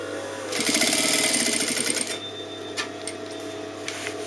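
A sewing machine stitches a hem on an open dress, giving a close, loud burst of rapid, even needle clatter for about a second and a half, then stops, followed by a few small handling clicks.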